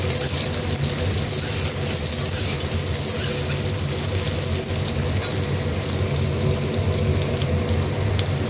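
250 grams of pointed gourd (potol) frying in a pan, giving a steady, loud, dense sizzle that hisses evenly throughout without pause.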